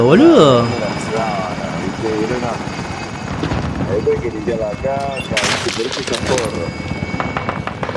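Gunfire rattles in Warzone over the steady drone of a helicopter, with shots spread through the stretch and a player talking excitedly throughout.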